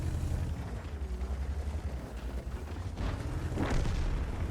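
A heavy tank cannon in a tank game, Obj. 752, with a deep rumbling boom and engine-like low roar throughout and a sharper blast near the end, loud and close.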